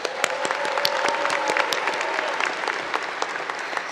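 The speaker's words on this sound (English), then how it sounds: "so can we get a round of applause for that?" Applause at a technical institute commencement ceremony, a dense, even wash of clapping from a large crowd that holds steady throughout.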